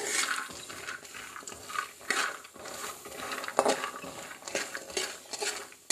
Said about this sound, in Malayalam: നമുക്ക് മെല്ലെ മെല്ലെ ഇതൊന്ന് ഇളക്കി ഒന്ന് വറുത്തെടുക്കാം